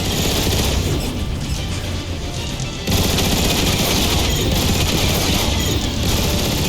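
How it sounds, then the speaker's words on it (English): Gun emplacement turrets in Transformers: War for Cybertron fire in a relentless, rapid automatic barrage, loud and dense from start to finish, intensifying partway through. "I think you can take them out with the gun emplacements"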